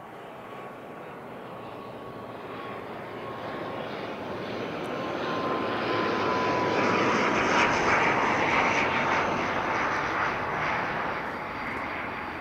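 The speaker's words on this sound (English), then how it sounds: "Approach and landing via New Zealand. And ATR into Christchurch." An ATR turboprop airliner on approach and landing at Christchurch, New Zealand, drones steadily as it nears, its engine roar swelling to a loud broad peak and then easing slightly, with no voices.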